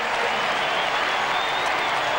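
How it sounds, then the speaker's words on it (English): Spanish crowd at the 1999 World Championships women's long jump final erupting in sustained applause and cheering, a dense, continuous roar of clapping filling the whole stretch. "Montalvo wins, and the Spanish crowd erupt."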